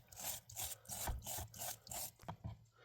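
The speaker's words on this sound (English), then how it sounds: "Put a little wire brush in there." A wire brush scrubs rust off an old hammer head in quick, even back-and-forth strokes, roughly two per second. The scratching is close and moderately loud, with no talking.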